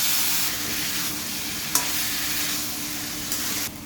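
Boiled taro stolons go into a pan with tomato and spice, and a steady sizzling hiss of frying runs throughout, with a couple of soft spoon scrapes as they are stirred.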